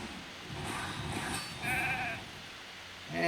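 Sheep bleating in the video game RAID: Shadow Legends, a few short wavering bleats over a steady game soundscape, moderately loud with no talk.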